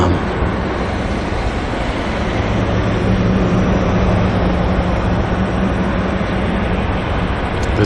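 A Jetstar jet airliner departs Auckland Airport bound for Dunedin, producing a loud, steady broadband engine roar that holds without letup throughout.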